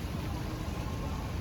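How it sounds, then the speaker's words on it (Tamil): Light rain drizzling on a city street in Suzhou, China, a steady soft hiss filling the scene with no voices. "ஓகே மழை ரொம்ப பெய்யலை, பட் தூர்ற மாதிரி தான் இருக்குது."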